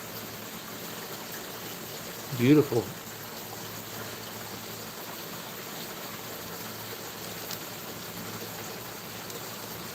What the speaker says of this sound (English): now we got it set up now where I can just put some water in here